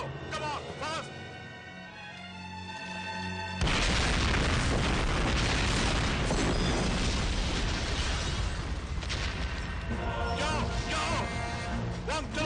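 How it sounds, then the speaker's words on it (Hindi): A film bomb explosion erupts into a loud, sustained roaring blast after music and voices, the rumble filling everything for several seconds before dialogue and music return. "यहाँ बम फटने वाला है।"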